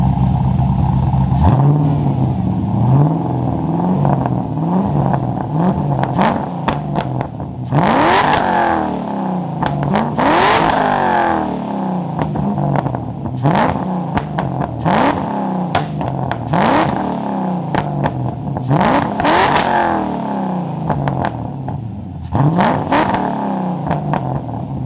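A car's exhaust blares as the engine is revved again and again, each loud, close rise of the motor falling away before the next, with no talking.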